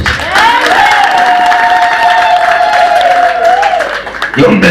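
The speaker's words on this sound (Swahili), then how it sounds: "unaweza kumpa Yesu makofi mazuri" A church congregation applauds Jesus during a service with steady, dense clapping and cheering over a sustained musical tone, loud and continuous throughout.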